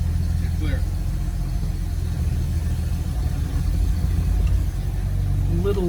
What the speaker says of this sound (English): A little bit of chatter, it feels like, upon clutch engagement